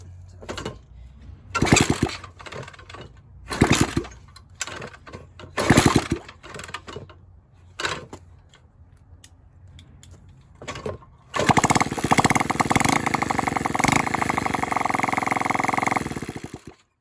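A rebuilt 70cc engine kicked over with its kickstarter: several short sputtering bursts and failed kicks, then it catches and runs in a steady, loud, buzzing idle for the last several seconds.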